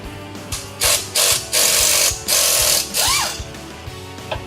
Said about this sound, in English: We're going to remove the track bar from the axle using a 21mm.